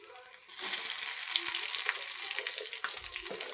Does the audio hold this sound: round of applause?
no